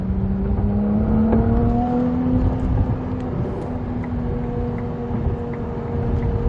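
A Ferrari V6 supercar engine hums loud and close in a steady drone, its pitch climbing slowly as it revs up and then holding high and even.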